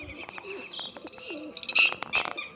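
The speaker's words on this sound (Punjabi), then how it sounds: "ਸਾਰੇ ਕਬੂਤਰ ਉੱਡੀ ਜਾਂਦੇ ਆ" Pigeons over a village rooftop give quick, near chirps and short coos in an irregular burst, with no voices.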